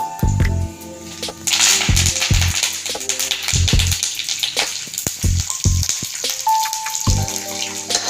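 Dry red chillies sizzle and crackle in hot oil while tempering for a Brahmin-style tomato huli rasam, a steady frying hiss with scattered clinks and taps of utensils, loud and close with no talking.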